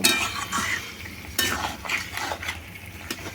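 Chicken with salt being stirred and sautéed in a pan, a spoon scraping and clinking against the metal in an uneven rhythm over a faint sizzle, close and moderately loud.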